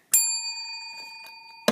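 A small bell rings with a bright, sustained tone that fades slowly, followed by a fainter strike and a final sharp ding at the end, with no talk.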